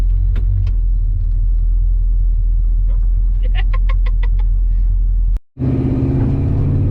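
A 1971 Chevrolet C10 short-box pickup with an LS engine swap drives along with a loud, steady low engine rumble. A brief drop near the end sounds like a gear change, and light clicking sounds come from inside the cab.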